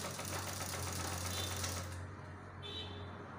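A manual foot-pedal sewing machine stitches fabric with a steady, fast rattling clatter and low hum, continuous and close, slightly easing toward the end.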